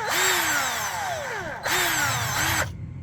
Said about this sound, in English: I basically just used the raw sounds from the drill